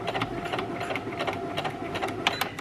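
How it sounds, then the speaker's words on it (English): A sewing machine sews straight down over elastic with a continuous, close, rapid rattle, humming and even throughout, with no pauses. "We're just going to make sure that we've got both edges of our elastic underneath the foot. And we're just going to sew straight down."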